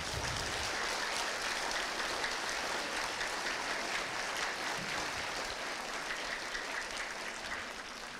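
Continuous crowd applause at a Finnish football club's season-ending celebration for its junior players, a dense, even wash of many hands clapping that holds steady throughout.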